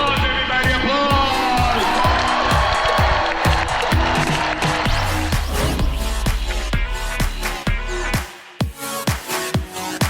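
Audience at the Miss Universe pageant applauding and cheering, a loud sustained crowd roar with whoops, heard from the media center, with sharp claps and thumps scattered through it.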